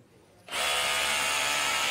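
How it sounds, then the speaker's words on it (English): After a quiet half second, a power drill with kickback protection and an integrated acceleration sensor starts boring into concrete, a loud, steady whine and grind running without pause to the end. "So I'm drilling into concrete."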